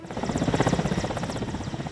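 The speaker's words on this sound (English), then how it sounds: "This Soviet-era helicopter is ancient, but in combat almost every day." Ageing Soviet-era military helicopter in combat service in Ukraine, its rotor beating in a fast, even pulse with a throbbing engine drone, loud and steady for the whole short stretch, no voices.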